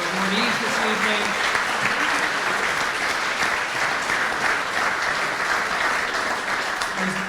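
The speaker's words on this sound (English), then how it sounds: "one big round of applause for all of our inductees and parental awardees this evening" Sustained, dense applause from a banquet audience honoring high school hall of fame inductees, steady and full throughout with a faint voice underneath.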